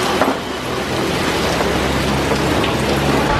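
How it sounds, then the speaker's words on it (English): Steady rain falls at an outdoor market in Bali, a dense and fairly loud patter on surfaces nearby that continues without a break. "it's raining actually"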